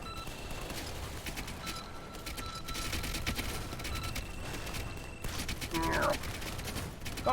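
Tac launcher fire in a shooter video game, a run of rapid gunfire bursts at moderate level, with a voice speaking over part of it.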